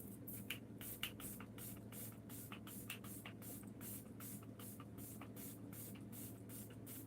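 Quick bursts of makeup setting spray puff onto a face one after another, each a short hissing spritz in a fast irregular series, close and fairly quiet over a low steady hum.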